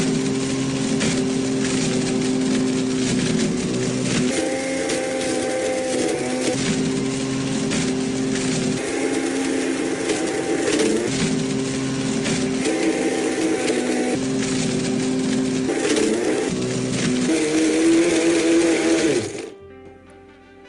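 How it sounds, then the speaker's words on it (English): A Blendtec Total Blender grinds up an iPad, its motor roaring loud and close for about twenty seconds with harsh rattling and shifting pitch as the tablet breaks apart, then winding down to stop. "I knew I could get the iPad in a Blendtec Total Blender."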